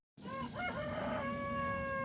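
A rooster crows once near a garden with chicken coops in Oklahoma. The call is loud, close and drawn out, with a rising start and a long sustained tail over steady outdoor background noise.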